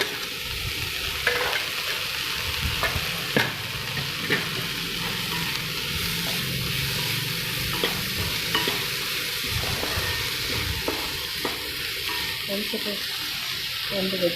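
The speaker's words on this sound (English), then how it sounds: "Then add in carrots, followed by tomato. Fry for some time." Carrots and tomato frying in a pan for vegetable rava upma, a steady soft sizzle with intermittent scraping stirs of a spoon, close and continuous.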